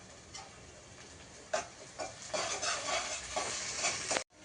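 Mint leaves fry in oil for a chicken curry, with a moderate close sizzle that grows louder midway, broken by several soft spoon taps and stirs, then stops abruptly.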